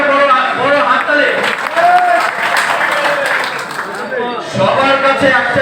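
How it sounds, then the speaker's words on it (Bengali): At an Eid reunion gathering of Bangladeshi film artists, an audience claps in a dense, sustained wash that fills the room, with a voice talking over it. "ওনার জন্য একটা বড় হাততালি।"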